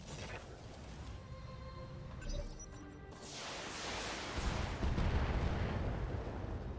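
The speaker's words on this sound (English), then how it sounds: "Oh, missile turret can shoot that far" A missile turret in a video game fires, a deep booming launch followed by a rising roaring rush and rumbling blasts that swell louder toward the end, heard alone.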